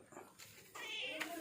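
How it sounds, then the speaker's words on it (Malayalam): A mother cat gives a loud, strained meow up close, a short cry followed by a longer wailing one that fills most of the moment. "എൻ്റെ തള്ളപ്പൂച്ച കരയുക"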